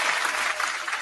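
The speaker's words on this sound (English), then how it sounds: "Round of applause for the Mondays gang" A brief burst of audience applause for the Mondays gang on a DJ mixshow, dense clapping lasting about a second at steady loudness.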